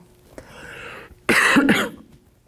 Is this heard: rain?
no